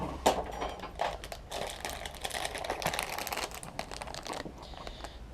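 A knife cuts a hole in a bag of washing soda with soft, close crinkling and crunching of the bag's material, irregular and fairly quiet, with no speech.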